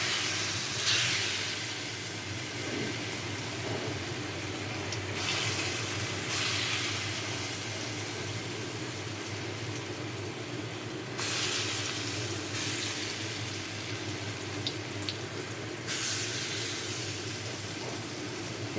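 Chana dal fritters fry in hot mustard oil in a kadai, giving a steady, close hiss and sizzle that runs throughout with small swells.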